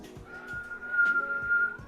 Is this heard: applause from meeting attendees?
no